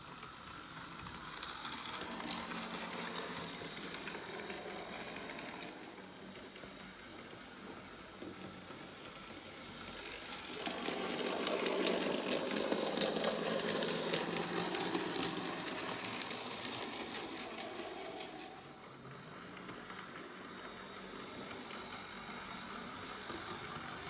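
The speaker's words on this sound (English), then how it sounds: "She is a little bit noisy, the loco, but off we go." Hornby model train locomotive running slowly along track, a steady mechanical whirring hum with a faint ratcheting buzz that swells and eases as it moves, fairly noisy and close.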